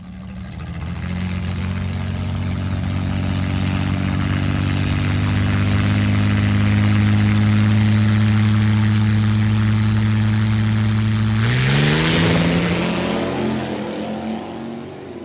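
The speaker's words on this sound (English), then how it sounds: "this appears to be a Ford inline 6" A slingshot dragster powered by a Ford inline six runs with a loud, steady, droning engine note close by, then revs sharply upward near the end before easing off.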